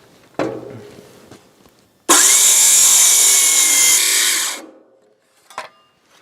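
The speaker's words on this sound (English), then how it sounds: "Then you can get your handsaw and finish the cut." A single sustained cutting pass on wood, loud and close for about two seconds, between faint knocks and handling noises.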